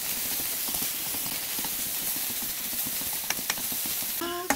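Garlic and chopped scallions frying in oil in a pan, a steady close sizzle with scattered pops and crackles throughout, plus a brief tonal clink near the end.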